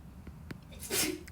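A single sneeze sounds in a quiet room, with a short sharp burst near the end after soft breathing.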